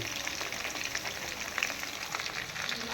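Chicken pieces frying in homemade masala give a steady, close sizzle with soft popping and crackling throughout, with no voices.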